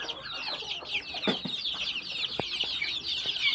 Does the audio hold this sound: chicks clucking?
yes